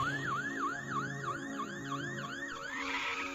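A wailing police siren rises and falls in a quick repeating sweep, loud and steady, as if the vehicle is close.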